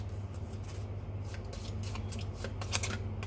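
Playing cards riffle and slide in quick, soft bursts over a steady low hum, a close and fairly quiet shuffle followed by cards being drawn from the deck.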